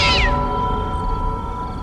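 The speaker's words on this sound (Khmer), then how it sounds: "ខ្ញុំឮសូរសំឡេងឆ្មា" A cat gives a single short meow at the very start, followed by a steady background hum with no further calls and no speech.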